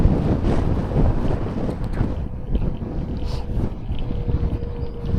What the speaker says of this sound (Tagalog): Oh, sobrang hangin dito ngayon sa Doha. Narinig nyo ang hangin?